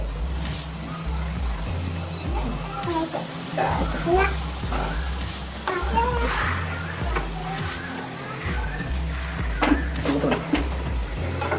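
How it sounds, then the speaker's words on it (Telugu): Sarva pindi, a traditional Telangana flatbread, roasts in a pan with a continuous soft sizzle, along with a low rumbling hum and occasional scraping as the pan is turned. "అన్ని వైపులా తిప్పుకుంటూ కాల్చుకోవాలి ఇలా రౌండ్గా తిప్పుతూ ఉంటే అన్ని వైపులా మంచిగా కాలుతుంది"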